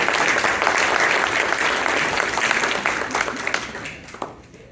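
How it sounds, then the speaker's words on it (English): An audience applauds steadily, a dense wash of clapping that gradually thins and fades out toward the end. "Round of applause."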